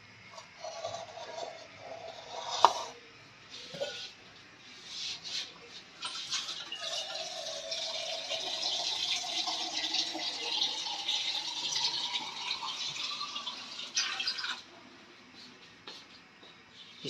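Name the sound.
water poured into a pot to make mutton stock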